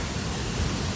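Tirto Kemanten waterfall on an Indonesian mountain trail, heard as a steady broadband rush of falling water that stays even and close throughout the brief moment, with no voices.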